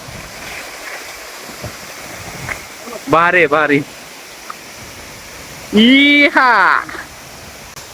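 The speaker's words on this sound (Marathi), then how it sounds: "भारी आहे धबधबा" Rautwadi waterfall rushes as a constant low wash in the background while someone speaks loudly in short bursts over it.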